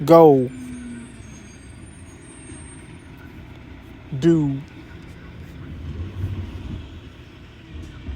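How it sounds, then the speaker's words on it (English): A garbage truck passes, and its air brakes give two sharp hissing squeals several seconds apart over low engine rumble, with a person talking briefly. "That was the garbage truck."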